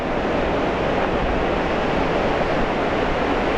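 Sea waves breaking on Brean beach in the Bristol Channel near high tide, a loud continuous wash of surf noise with no distinct breaks, close and alone.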